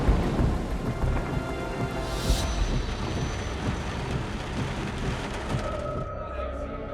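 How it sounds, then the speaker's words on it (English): Thunderstorm over a city, with steady heavy rain pummeling surfaces and low rolling thunder rumbling throughout, loud and continuous, with a sharper crack near the middle. "storms gathered on the horizon once more"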